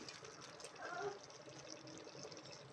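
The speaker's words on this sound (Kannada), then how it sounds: "ಈಗ ಒಂದು ಗ್ಲಾಸಷ್ಟು ನೀರು ಹಾಕ್ಕೊಂಡಿದ್ದೀನಿ ಜಾರ್ ತೊಳೆಯೋಕ್ಕೆ" About a glass of water splashes and gurgles steadily into a mixer jar for a few seconds, fairly quiet, with faint room noise around it.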